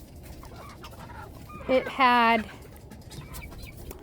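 Big chickens in a small pen with roosting bars, one loud close cluck-like squawk in the middle, with faint background clucks and a voice speaking briefly around it.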